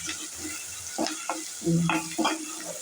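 Ginger and green chillies sizzle in hot oil in a pan while being stirred, with a soft continuous fry punctuated by several sharp scraping clinks of the spoon.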